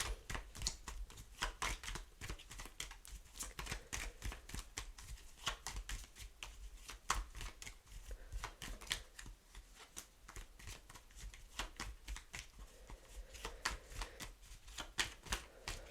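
Tarot cards are shuffled by hand in a quick, continuous riffle of crisp flapping clicks, the rapid card noise running without pause at a low, close level.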